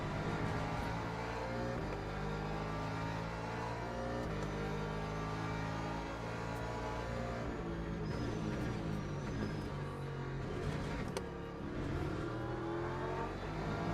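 BMW race car in Le Mans Ultimate at Imola, engine droning loud and steady with shifting revs throughout, several cars' engines layered close together with no talk.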